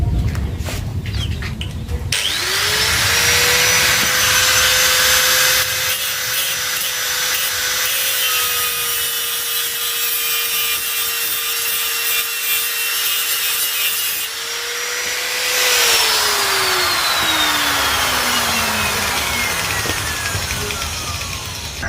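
A power tool whines steadily while grinding and smoothing a motorcycle CDI ignition part for a Honda Astrea Grand, loud and close with a harsh abrasive rasp, spinning up, running for over ten seconds, then winding down.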